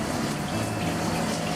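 Water from a home shower runs in a steady, close gushing stream, continuous and moderately loud, with no voices.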